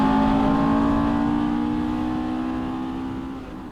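A race car on a track heading into the pit lane, its engine a loud, steady drone with a tonal whine that gradually fades as the car slows.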